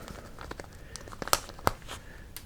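A sealed resealable plastic bag, also welded shut across the top, being handled and worked open, with soft crinkling and two sharp crackling pops close by, no talk.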